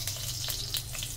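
Cumin seeds hitting hot oil in a pan for a potato, cabbage and peas sabzi, giving a brief steady hiss and crackle, close and moderately loud, with no talk.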